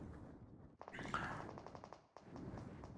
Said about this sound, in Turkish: O silah sesleri gelmeye başladı.